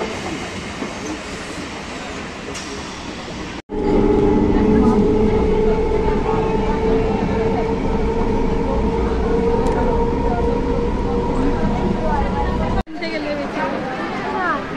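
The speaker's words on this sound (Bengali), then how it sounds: "ট্রেন এসে গেছে।" A train pulling into a local station on a Diamond Harbour route, a loud steady rumble with clattering wheels and a low hum up close, with voices in the crowd on the platform.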